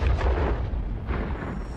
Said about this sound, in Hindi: फिर उस शक्ति की रोशनी चौंधियाने लगी और तभी एक तेज धमाका हुआ।